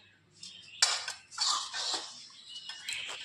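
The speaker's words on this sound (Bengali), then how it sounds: "চলো ঠাকুরের বাসন মেজে ফেলি ঝট করে।" Metal puja utensils being scrubbed clean by hand: close, uneven bursts of scraping and rubbing with small metallic clinks as the pieces shift against each other.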